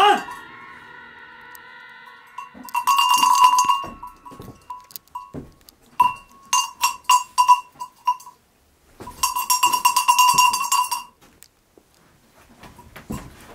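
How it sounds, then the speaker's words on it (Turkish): Old metal bell handled in an abandoned house, clanging and jingling in two long shaking bursts with scattered single clinks between, loud and close. "Bu çanı yanıma alacağım."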